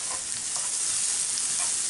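Beef bolognese mixture with oregano sizzles steadily in a pan as it is stirred around, a dense, even frying hiss with faint scraping strokes and no voices.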